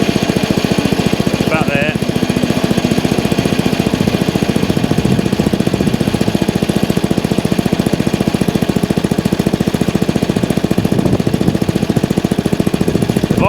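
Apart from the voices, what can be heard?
Masport Olympic lawn mower engine idling after clutch replacement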